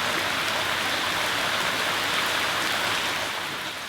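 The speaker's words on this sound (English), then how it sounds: "it started raining" Rain pours at a resort in the Maldives, a dense, steady hiss of drops on surfaces that holds evenly throughout with no voices.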